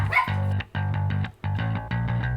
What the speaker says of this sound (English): barking puppies